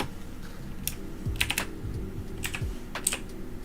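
Slow, uneven keystrokes on a computer keyboard, typed left-handed, with sparse clicks and irregular gaps over a quiet background hum.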